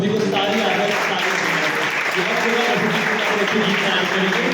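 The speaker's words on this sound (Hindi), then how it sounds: "भी तालियां बजा देते हैं खुदा मसीह को" A church congregation claps in praise during a Resurrection Day celebration, a dense, steady wash of applause filling the whole moment with no break.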